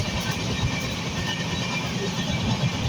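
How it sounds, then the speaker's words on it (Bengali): Madhumati Express train on the Dhaka to Faridpur route running at high speed, a continuous loud rumble and rattle of wheels heard from inside a carriage, with no talking. "ওরে বাপ রে, ট্রেন আজকে এত স্পিড।"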